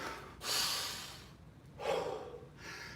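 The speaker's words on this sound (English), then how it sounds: "This is called mechanical breathing." Two forceful, rushing breaths sound close up during a martial arts conditioning exercise, with hard bursts of air separated by quieter gaps and a third breath starting at the end.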